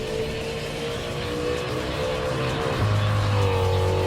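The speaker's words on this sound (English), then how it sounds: "The engine noise sounds really freaking good." A GAC Maverick race car's engine drones loudly in a racing video game, a steady sustained tone that rises in pitch near the end as it revs harder, with no voice over it.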